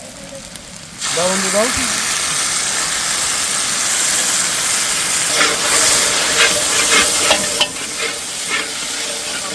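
Onion, capsicum and other vegetables fry in a pan with chili sauce. A loud, steady sizzle with bursts of hiss and stirring clatter runs throughout, and people talk briefly over it.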